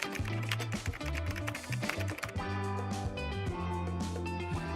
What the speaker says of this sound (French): doigts s'activent rapidement sur son clavier pour faire toutes sortes de miracles